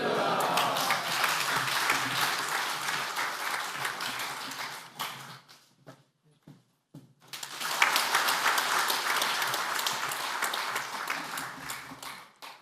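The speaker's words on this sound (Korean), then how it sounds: "할렐루야로 하나님께 영광 돌리며 박수로 환영하시겠습니다" A church congregation at a men's mission society officers' prayer meeting applauds in welcome, a dense, steady clapping that fades to a brief lull and then swells again just as loudly.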